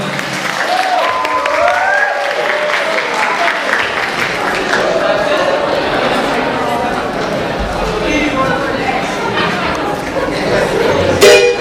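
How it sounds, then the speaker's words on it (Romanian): Applause and cheering for dancers taking the stage at a student freshman ball, mixed with crowd chatter and music, with voices talking throughout. "Haideți să le aplaudăm!"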